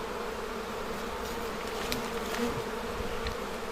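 Angry honeybees swarming around a hive in the Taurus mountains, a steady close buzzing drone throughout with a few louder passing whines, no voices.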